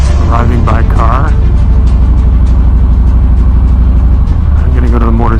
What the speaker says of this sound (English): arriving by car.